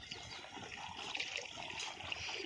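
Irrigation water flowing into a groundnut field, a faint, continuous trickle and gurgle with light splashy detail, quiet and steady throughout.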